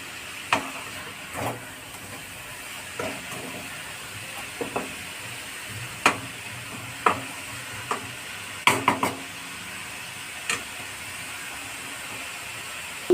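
A spoon scrapes and stirs food in a pan, giving scattered clinks and knocks over a low, constant sizzle, with no talking.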